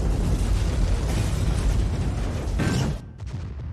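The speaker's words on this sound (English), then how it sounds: "This is the explosion that took up a huge portion of the budget." A large film explosion from the sci-fi horror movie Event Horizon roars as a dense, sustained rumbling blast for about three seconds, then cuts off into quieter crackling debris, with no voices.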